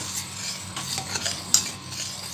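A spoon scrapes and stirs thickening milk around a hot kadhai after the flame is turned off, soft repeated metallic scraping strokes with one sharper clink, close and steady.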